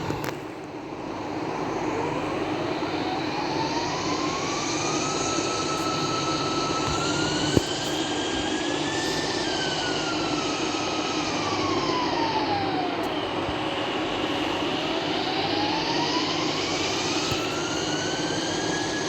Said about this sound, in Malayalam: നമ്മളതുകൊണ്ട് വീണ്ടും ജെറ്റ് പാക്ക് എടുക്കുകയാണ്.